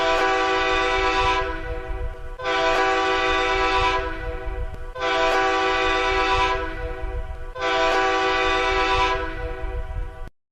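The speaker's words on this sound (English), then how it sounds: "Three short blasts mean get ready" A train horn sounds its signal that the train is backing up, heard as four long, loud, evenly spaced chord blasts with short gaps between them, close and alone, the last blast cutting off sharply.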